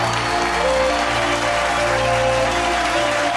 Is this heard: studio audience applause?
yes